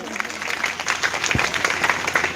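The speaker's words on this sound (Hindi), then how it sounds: "एक बार जोरदार ताली" At a business seminar an audience bursts into steady, dense clapping that continues throughout, fairly close and loud, with some voices mixed in.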